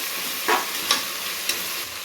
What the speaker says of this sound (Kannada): ಶುಂಠಿ ಬೆಳ್ಳುಳ್ಳಿ ಪೇಸ್ಟ್ ಫ್ರೈ ಮಾಡಿ,